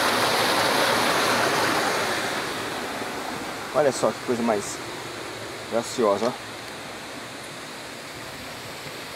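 Water pouring down at the Antônio Monteiro waterfall in Pocinhos do Rio, a steady broadband rush that is loudest at first and eases slightly. Someone speaks briefly over it in the middle.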